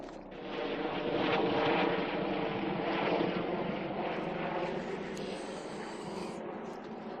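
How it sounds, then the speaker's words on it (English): A helicopter's steady, loud drone with a rotor rumble passes overhead, swelling early and then easing off slightly as it moves away. "Helicopter."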